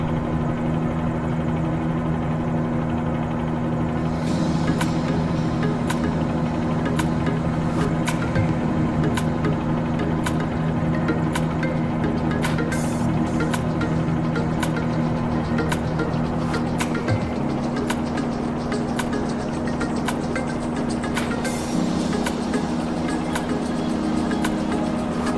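A helicopter in Microsoft Flight Simulator flies near Hamilton Island, its steady rotor and engine drone running loud and continuous with a throbbing low hum and shifting pitch.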